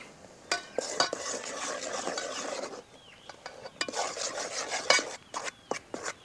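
Rice flour being stirred into boiling water in a pot, a spoon scraping and knocking against the pan in irregular bursts, with a soft bubbling hiss underneath.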